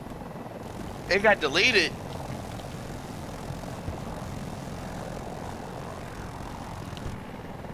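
A Super Hind attack helicopter in Battlefield 2042 drones steadily in the background with rotor and engine noise, while a brief burst of warbling tones cuts in early and a voice speaks once over it.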